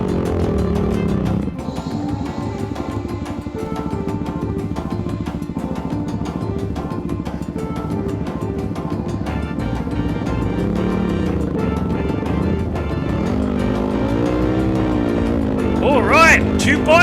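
Dirt bikes, including a Yamaha WR250R, KTM and GAS GAS, climb an uphill trail with a steady, loud engine drone and shifting revs, and the pitch swells near the end.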